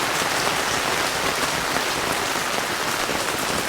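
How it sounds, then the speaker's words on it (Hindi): Torrential monsoon downpour in Mukteshwar's mountains, a dense, steady roar of heavy rain hammering surfaces, loud and unbroken throughout with no voices. "अब तेज हो गई, तेज हो गई बारिश, भयंकर हो गई, मूसलाधार वाली।"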